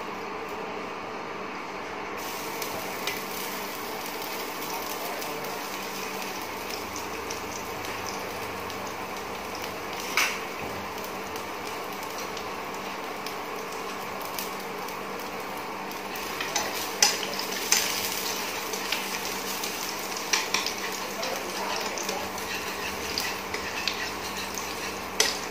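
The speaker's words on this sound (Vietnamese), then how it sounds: "Dầu nóng thì mình sẽ cho một ít tỏi băm vào cho nó thơm." Minced garlic frying in hot oil for Vietnamese chicken curry, a steady broadband sizzle that holds throughout, with a few brief utensil scrapes and clinks toward the end.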